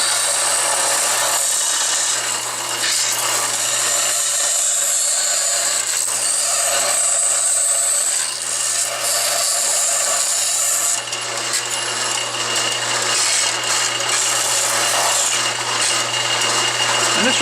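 A band saw fitted with a half-inch blade cuts through wood during a bracket build, giving a steady, loud, continuous rasping whine with a constant motor hum underneath and no talking.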